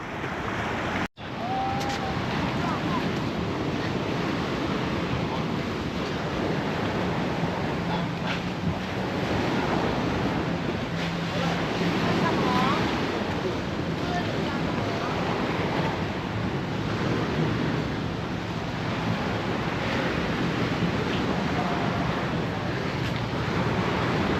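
Surf washes onto a beach on Koh Larn island near Pattaya, a constant broad rush of waves mixed with wind buffeting the microphone, steady throughout after a brief knock at the start.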